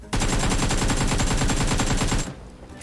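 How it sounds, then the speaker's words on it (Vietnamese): A loud, rapid burst of automatic gunfire in PUBG Mobile, steady close shots for about two seconds before cutting off abruptly. "Bắn tôi đấy"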